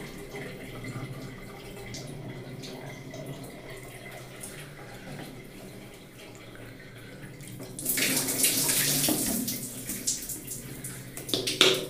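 Water poured over the head during a first hair wash after a hair transplant: a steady running-water hiss that swells into a louder, fuller gush toward the end, close and with no talk.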